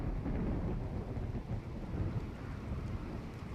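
Thunderstorm weather in the RimWorld video game, a steady roar of heavy rain with low rumbling thunder rolling continuously throughout, loud and dense with no talk over it.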